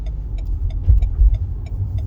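A car engine rumbling low and close as the car pulls away from a roadside parking spot, with uneven throaty surges and no talking.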